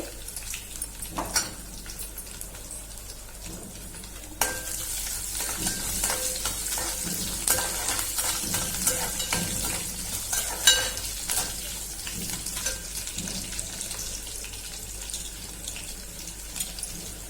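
Garlic and dried shrimp fry in a pan with a sustained, moderately loud sizzle. Intermittent stirring scrapes and a sharp clatter come partway through, and no voices are heard.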